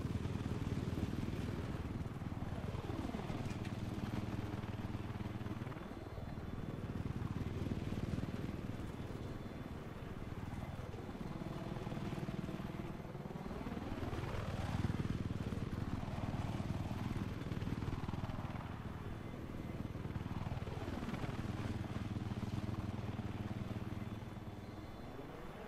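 Helicopter engine and rotor drone from Battlefield 4 gameplay, a steady loud hum that rises and falls in pitch in repeated sweeps as the aircraft rolls and maneuvers, with no speech.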